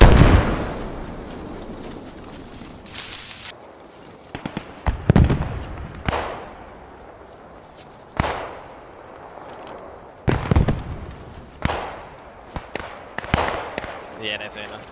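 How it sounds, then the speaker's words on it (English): Grenades go off in a night battle in the Squad 44 video game, a series of sharp, booming blasts spaced several seconds apart, some close and loud, others more distant, each trailing off with a rumbling decay. "There's some nades in the direction of the left."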